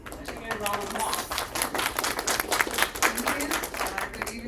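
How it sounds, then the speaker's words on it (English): A founders panel crowd claps in a dense, fast patter of many hands, fairly close and steady throughout, with faint voices underneath. "Let's get a round of applause."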